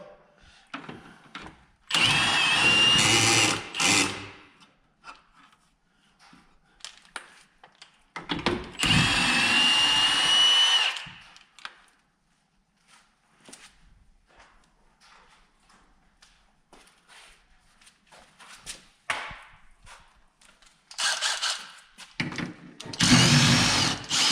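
An impact or power drill unbolting a shock absorber on a 1979 Pontiac Trans Am silver anniversary edition during a suspension install gives three loud bursts of whirring and rattling, separated by quieter clanks and shuffling.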